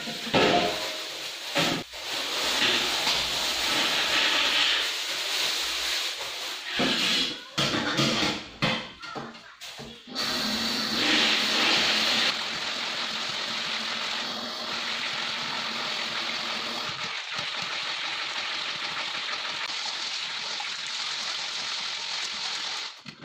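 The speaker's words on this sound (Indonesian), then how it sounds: "Sekarang saya mau cuci bersih dulu sebelum saya rebus." Soybeans being washed in water before boiling for homemade tempeh: faint, steady swishing and sloshing with occasional clatter and pauses, close-up and with no one talking.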